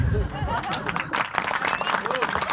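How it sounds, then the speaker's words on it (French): Audience at a stand-up comedy show in Rennes applauding comedian Cécile Foudet, dense close clapping with scattered laughter and chatter mixed in, the burst heard without any speech over it. "On applaudit Cécile Foudet."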